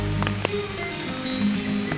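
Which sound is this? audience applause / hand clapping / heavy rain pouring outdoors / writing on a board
heavy rain pouring outdoors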